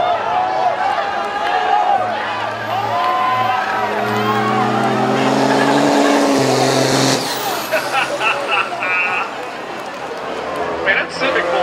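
A Honda Civic race car roars around Langley Speedway during a Wacky Wednesday event, engine revving and shifting up and down, mixed with other cars, crowd noise and steady commentary voices throughout.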